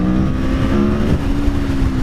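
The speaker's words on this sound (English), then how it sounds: "It's the throttle response on this bike is really good." 2017 Aprilia Tuono / RSV4 motorcycle engine, a loud, close, continuous engine drone with a steady tone through the whole stretch, its pitch shifting only slightly as the throttle is worked.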